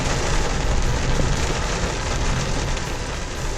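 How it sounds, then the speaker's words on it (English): Heavy rain pours steadily in a forest, a dense, continuous wash of drops close by with no breaks and no talk. "it is just pouring"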